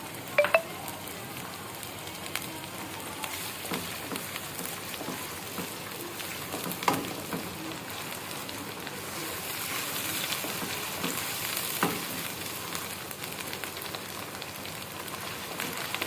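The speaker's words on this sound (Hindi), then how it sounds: "थोड़ा सा इनको भूनें" Whole spices and ginger-garlic paste sizzle and crackle steadily in a hot pan, a continuous fine frying hiss with a few soft stirring knocks, moderately quiet with no talking.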